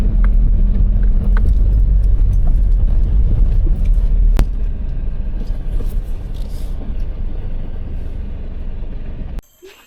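A car pulls away in second gear, its engine and road noise forming a loud, steady low rumble that eases slightly midway before cutting off abruptly near the end.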